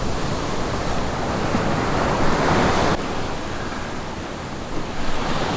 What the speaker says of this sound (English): And the waves are coming in here.